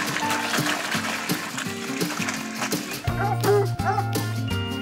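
A pack of hunting hounds at feeding time being served duck, barking and yipping in a loud, busy chorus with whimpers mixed in, while a voice calls over the din.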